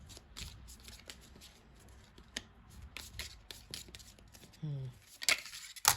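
Tarot cards shuffled by hand during a horoscope card reading, a soft papery riffle with scattered taps and snaps, quiet and close, ending in a few sharper slaps as cards fall.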